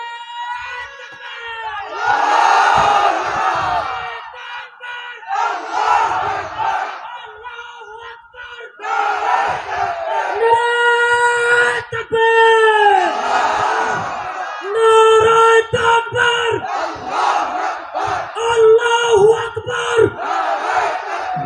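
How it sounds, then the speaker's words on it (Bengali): A large crowd at an outdoor Islamic sermon roars the takbir slogan in loud, repeated collective chants, waves of voices swelling and falling in rhythm, close and powerful. "একজনে দিবেন একেবারে বীরের মতো, জোরে সরে একটা তাকবীর দেন"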